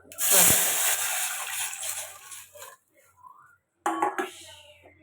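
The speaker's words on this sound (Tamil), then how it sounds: "இப்போ இந்த தண்ணி ஊற்றிக்கலாம்." Water poured into a hot tempering pan of spluttered mustard seeds and dried chili for rasam hits with a loud, sudden hiss of steam that slowly fades, followed by a second brief sizzling burst.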